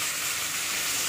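Chopped capsicum frying in a pan for a south Indian brinjal dish, a steady close sizzle of hot oil running throughout the short stretch with no voices.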